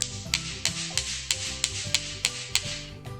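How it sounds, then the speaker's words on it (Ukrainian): Two small stones knocked against each other in a classroom demonstration of stone's properties: about ten sharp, evenly spaced clicks, roughly three per second, over a soft music bed. "Я візьму камінці і постукаю один об одний."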